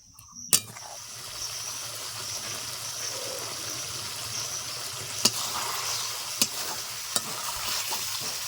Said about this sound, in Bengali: তিন চার মিনিট ভালো করে নেড়ে চেড়ে নিয়েছি